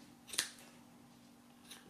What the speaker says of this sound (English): you can just go round and have a little snip at it